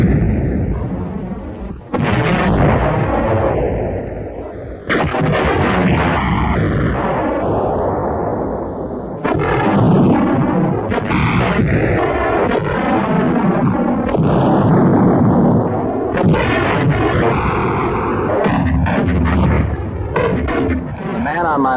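Tanks firing 88 guns in a Siegfried Line battle, a rapid series of heavy booming blasts and explosions at irregular intervals, loud and close, mixed with narration over the din.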